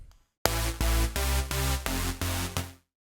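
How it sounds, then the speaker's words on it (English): Bright top supersaw layer from a Reason 8 synthesizer patch playing a chord, a dense buzzing wall of sound chopped into about six pulses in a quick rhythm, loud and close before cutting off cleanly. "There's first this top saw layer,"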